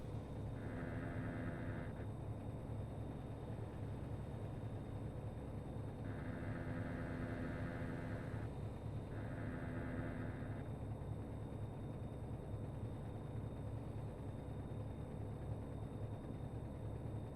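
A truck engine in American Truck Simulator runs at a steady, loud drone with a dense low rumble, and a repetitive knocking texture runs through it. Brief tonal bursts come and go over the engine sound.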